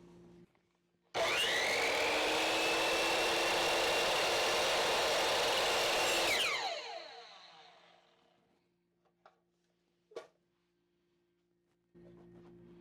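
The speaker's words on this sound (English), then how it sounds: "do not raise the saw until it is finished spinning" A sliding miter saw roars steadily through a cut in small pieces of wood, then its blade whines down in pitch over a couple of seconds and coasts to silence, followed by a few faint clicks and knocks.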